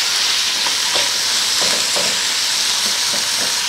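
Small boneless chicken cubes sizzle loudly in a hot clay matka as they are stirred. A constant frying hiss fills the space, broken by soft scraping knocks from the stirring.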